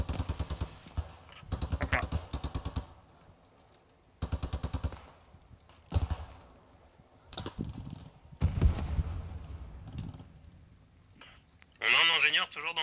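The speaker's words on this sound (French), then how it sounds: "ça tire, j'entends des coups de feu là." Gunfire in the World War II shooter Post Scriptum: repeated rapid bursts of automatic weapons fire, loud and near, broken by single heavier shots and distant pops, with speech heard between and over the bursts.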